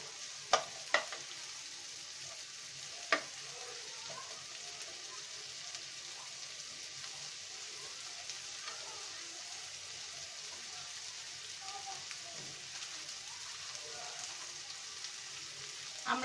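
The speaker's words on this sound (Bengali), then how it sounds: "আমরা এখন আমাদের পেঁয়াজটাকে ব্রাউন কালার করে ভেজে নিব" Onions frying until brown in a pan for a spiced rohu fish roe dish, giving a steady soft crackling sizzle with a few sharp clicks of stirring, alone and moderately quiet throughout.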